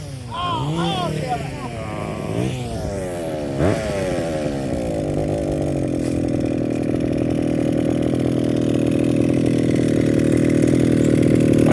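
A small two-stroke engine on a Rovan 360GT 1/5 scale RC sand buggy revs up, then settles into a steady, loud buzzing idle that runs continuously to the end.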